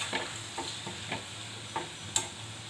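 Mango fritters (aamer bora) fry in oil with a constant soft sizzle, broken by occasional light taps and stirring clicks, close by and without speech.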